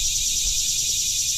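Swamp ambience in Louisiana's Kisatchie National Forest, with a dense, steady shrill chorus of crickets and insects filling the air, continuous and unbroken, over a faint low rumble.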